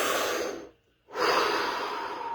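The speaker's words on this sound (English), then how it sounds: "Take a deep breath." Someone takes a slow, deep breath close to the microphone: a long airy inhale, a short pause of near silence, then a steady breathy exhale that carries on to the end.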